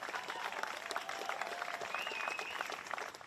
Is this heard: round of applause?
yes